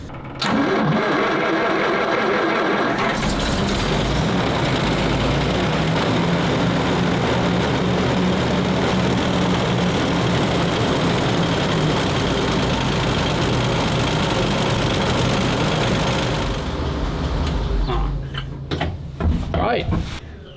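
A WWII tank with two Chevrolet 350 small-block engines starts and runs loud and steady for about fourteen seconds, then cuts out, followed by a few clunks.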